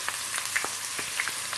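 Crushed garlic frying in oil with desi ghee for a tadka, a faint steady sizzle with scattered soft pops and crackles, no voices.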